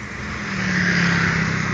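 A Jetbus 3 coach passes along a narrow, congested road in Sumatra, its engine roar swelling steadily and staying loud and close, with no talk over it.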